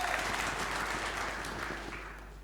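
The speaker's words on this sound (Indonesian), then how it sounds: "Berikan tepuk tangan buat Tuhan." Congregation clapping during a Sunday church service in Bali, a steady wash of applause that fades slightly toward the end, fairly quiet and distant.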